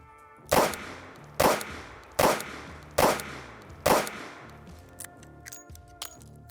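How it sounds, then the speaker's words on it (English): A Smith & Wesson J-frame revolver fires a full cylinder at a target, five loud, sharp shots evenly spaced about a second apart, each ringing out before fading, followed by faint clinks. "So I'm gonna shoot this full cylinder into a target so we can see what it looks like."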